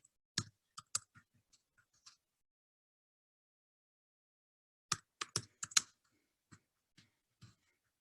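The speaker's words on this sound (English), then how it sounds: "I'm going to type it here in the chat." Keys on a computer keyboard click in two quiet bursts of typing separated by a few seconds of silence, close and crisp, with no voices.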